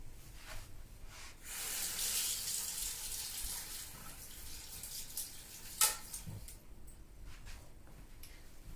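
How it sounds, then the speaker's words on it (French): Water runs from a tap to rinse a stencil after use with embossing paste, a soft, steady hiss and splash at close range, fluctuating slightly with one brief sharper splash near the end. "je vais tout de suite le rincer."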